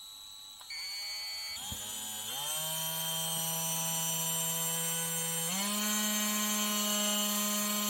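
A Parkside 12V cordless rotary tool, model PFBS 12 C7, whines at a high pitch and shifts upward in steps as its speed setting is changed, with a steady, close, buzzing motor tone throughout.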